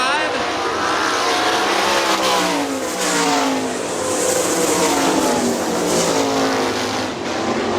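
AVSS 410 sprint cars race at Hartford Speedway Park in Hartford, Michigan in 1999, several loud high-revving engines whining past in overlapping rising and falling sweeps as the pack circles the track.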